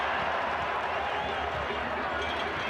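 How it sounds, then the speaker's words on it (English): A stadium crowd at the Ghana–Brazil U17 World Cup final cheers in a steady, broad roar, with a commentator's voice running over the noise. "The crowd loving the skills of these players."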